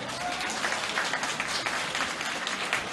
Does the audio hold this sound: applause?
yes